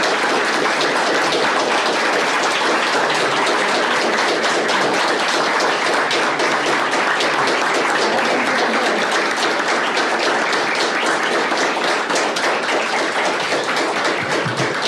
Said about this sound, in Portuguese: essas palmas não são para mim